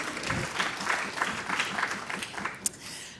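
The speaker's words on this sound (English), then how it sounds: "Yes, and a clap." At a health conference, a hall audience gives a moderate round of clapping that sounds a little distant and roomy. One sharper knock or clap stands out near the end.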